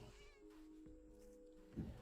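A cat in the Garden Paws game gives a faint, brief meow, soft and drawn out, ending in a slightly louder low chirp.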